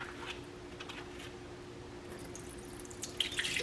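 Running water from a tap over a food-coloring-dyed skein of yarn being rinsed, a quiet steady trickle with soft splashes and drips that grow a little louder near the end, no talking.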